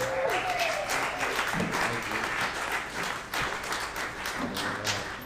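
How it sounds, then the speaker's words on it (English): Audience applause at a live event, a sustained wash of many hands clapping, fairly loud and steady throughout, with a few louder thumps and faint voices mixed in. "please keep your applause going for an interview between Ryan Nicodemus and Dr."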